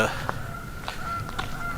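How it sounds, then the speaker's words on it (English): Several short honks from geese by a creek sound at a distance over outdoor background noise, spaced irregularly. "You can hear the geese."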